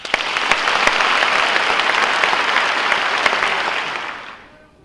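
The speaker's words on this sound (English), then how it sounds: "Clap if you've seen the movie." Audience applause fills a comedy talk by author Stephen King, a dense, steady wash of many hands clapping that holds for several seconds, then fades out near the end.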